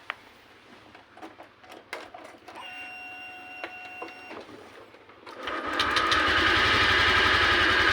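A Honda Vario 125 scooter with a hesitating, unresponsive engine fault is cranked with a few clicks and whirs before it catches at about five seconds and settles into a loud, steady running buzz close by.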